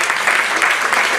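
Dense, steady applause from a church congregation, sustained and close throughout.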